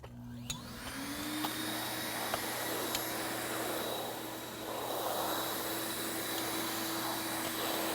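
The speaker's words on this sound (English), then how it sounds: "So we're going to vacuum this up" A vacuum cleaner runs steadily as it sucks up debris from a decorative quartz flooring installation, a continuous close whine and rushing airflow starting after a brief moment and holding for the whole stretch.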